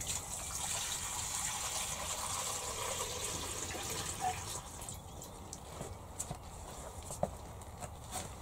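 Water gushes steadily from a hose onto newly set-out tomato plants, a continuous close hiss and splash that thins later and is broken by a few light knocks and clicks; no one speaks.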